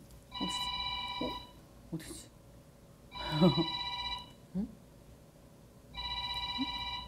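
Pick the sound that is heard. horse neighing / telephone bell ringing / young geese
telephone bell ringing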